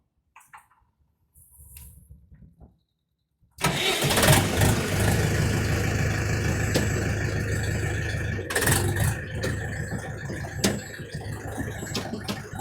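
A DTZ 5404 mini tractor engine is heard close up. A short cranking attempt stops, then the engine catches and settles into a loud, steady, rough idle with faint clatter.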